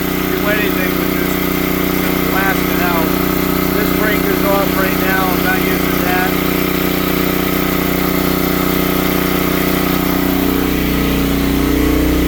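A Predator 13000 watt generator runs with a loud, steady engine drone and constant hum, someone talking over it, and the pitch drops slightly near the end as it settles.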